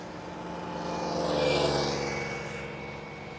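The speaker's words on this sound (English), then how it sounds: "And the KLM 737 is a 700." A KLM Boeing 737-700 passes at Schiphol airport, its jet engine swelling to a broad roar that peaks midway and then fades, a steady distant rumble with no talk.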